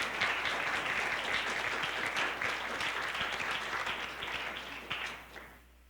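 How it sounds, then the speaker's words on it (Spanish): Audience applauding a guest at a panel discussion on children's and adolescents' voices, a steady dense wash of clapping that holds for several seconds, then fades out at the end. "Les pido un aplauso para ella"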